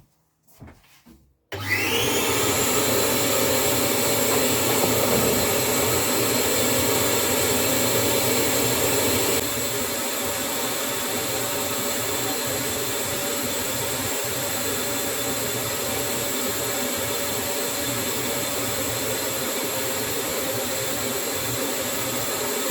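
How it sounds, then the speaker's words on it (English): A vacuum cleaner in a dusty workshop starts abruptly after a brief clatter and runs loud and steady throughout, its tone dropping slightly partway as it sucks up dust. "Let me just have a hoover up"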